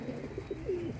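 Soft, low pigeon coos repeat a few times, the last one drawn out, against a steady background murmur.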